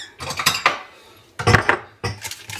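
Chopped nuts are poured into a dish in three quick rattling bursts of small hard pieces clattering against the dish, separated by short pauses, close and fairly loud.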